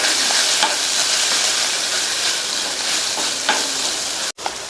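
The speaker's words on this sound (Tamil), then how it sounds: "சிம்ல வச்சு இதனுடைய பச்சை வாசனை போக 2 நிமிஷத்துக்கு வதக்கி கொடுங்க." Chilli powder and coriander powder sauté in a hot pan with a steady, loud sizzle and hiss, broken by faint stirring scrapes. The frying stops abruptly near the end, with no talking.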